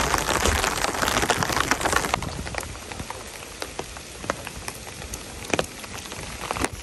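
Steady rain pours down on a golf course during a rainy practice round, a dense hiss with scattered louder drop hits, heavier at first and then easing to a softer patter.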